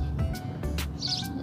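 A bird chirps a few short, high calls outdoors, fairly faint over a steady background hum.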